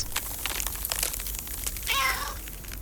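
A cartoon-style kitten meow rises in bright, wavering tones near the end, heard over a busy bed of clicks, rustles and background effects in an animated fairy tale.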